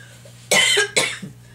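Two sharp, close coughs in quick succession, the second slightly weaker, over a quiet background.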